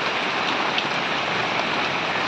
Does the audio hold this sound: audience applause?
no